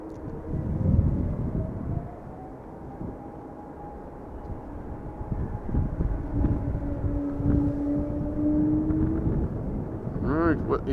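EasyJet Airbus A320neo rolling onto the runway at Schiphol Airport, a steady distant jet engine hum with a slowly drifting whine under outdoor wind noise, rising briefly near the end.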